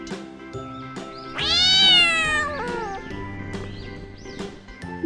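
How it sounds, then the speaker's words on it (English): A cat meows in a long, drawn-out rising and falling cry, preceded and followed by shorter chirpy mews, close and clear with light background music. "C for cat."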